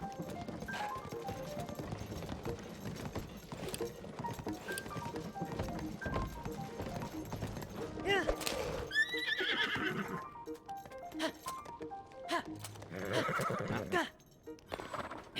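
A horse in Zelda: Tears of the Kingdom clip-clops steadily across terrain, then lets out two loud neighs, with hoof and movement sounds filling the stretch between them.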